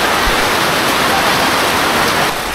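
Heavy rain pours down in Boac, Marinduque, a loud, constant hissing wash of water with no gaps, close by and filling the whole clip.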